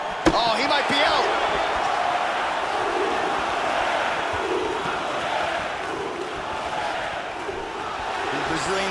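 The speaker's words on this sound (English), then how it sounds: "The Brazilians in the crowd start their chant." A large arena crowd in a UFC fighting video game roars and chants continuously, a dense, loud wash of voices with a sharp hit near the start and no clear commentary over it.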